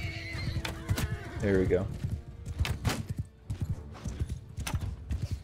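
Horses whinny and hooves clatter in a Mount and Blade Bannerlord battle, with a loud neigh and rapid clip-clop close by while someone talks over the game sounds.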